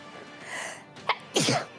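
A close, forceful sneeze follows a brief gasping breath, with a faint sniff just before it.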